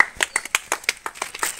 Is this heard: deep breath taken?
no